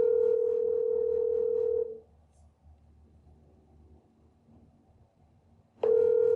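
Outgoing-call ringback on a Grandstream WP820 WiFi cordless VoIP phone in speakerphone mode: a steady loud tone for about two seconds, a quiet gap of roughly four seconds with faint room noise, then the tone starts again.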